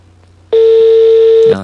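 A steady electronic tone sounds while calling in to a Thai Buddhist dharma radio talk program, holding for about a second after a short quiet lead-in, loud and alone.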